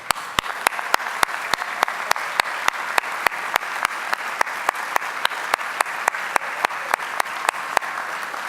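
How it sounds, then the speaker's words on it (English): Graduates applaud their parents at a 2015 undergraduate commencement at Niagara. Steady, moderately loud clapping fills the hall, with a few sharp claps standing out in a fairly even rhythm. "Now it's time to applaud them"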